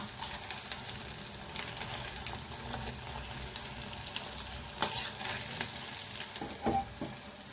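Semolina rasgullas fry in hot oil until golden brown, giving a soft, constant sizzle with a few light stirring sounds, faint and without talk.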